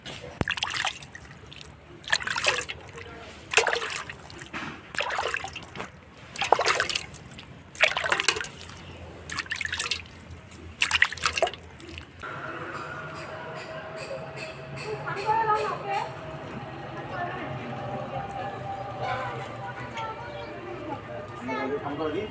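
Small amounts of water trickle and pour onto freshly planted calendula, a steady close wash of running water following a stretch of intermittent sounds with a voice talking.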